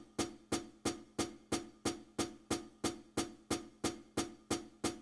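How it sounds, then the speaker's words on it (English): Drum set hi-hats tick out a steady pattern of evenly spaced eighth notes, with crisp, bright, regular strikes that are close and clear and played alone. "they sound like this typically on the drum set, hi-hats."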